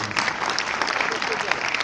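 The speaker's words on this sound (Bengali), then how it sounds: "ওনার জন্য একটা জোরে হাততালি দিই আমরা।" An audience at a university motivational talk claps in a loud, dense burst of applause that fills the whole moment.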